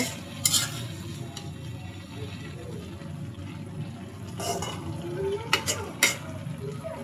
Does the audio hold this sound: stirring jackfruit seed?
yes